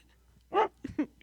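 A dog, featured as a shelter pet of the week, gives three short barks or yelps close by: one longer bark, then two quick ones, with no talk over them.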